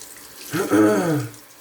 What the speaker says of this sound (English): I just rinsed off a little bit of the lather